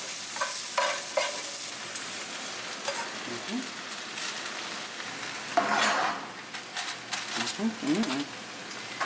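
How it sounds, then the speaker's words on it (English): Chicken with poblano peppers and chayote squash frying in a pan, a steady close sizzle broken by spatula scrapes and stirring clatters, with brief bursts of louder hissing. "I'm going to let those fry for a minute"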